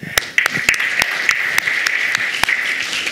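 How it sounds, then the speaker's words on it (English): Audience applause at a live-streamed event, a steady round of clapping with several loud, sharp individual claps standing out close by. "So let's give Dave and Tom a round of applause"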